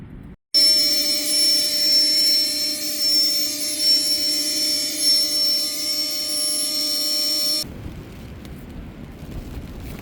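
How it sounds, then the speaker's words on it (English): Strong, steady wind roaring over a coastal cliff in Ireland and buffeting a tent, a loud continuous rush with a faint whistling tone, dropping to a softer gusty hiss near the end. "You can hear the wind just sweeping up over this cliff"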